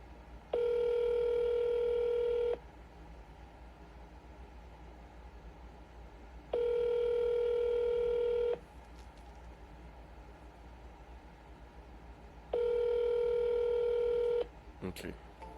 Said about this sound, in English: Okay, they're not answering the phone.